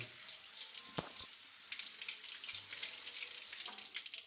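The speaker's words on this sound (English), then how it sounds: "We will wash this potato with this water, with this cold water." Cold tap water runs steadily into a sink as a potato is washed for homemade fries, a continuous bright splashing wash with a couple of soft knocks near the start, no talking.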